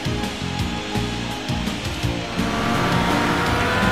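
Race car at Mid-Ohio losing control and spinning several times, a loud steady engine drone with shifting revs and tire noise throughout, the roar swelling toward the end, no voices.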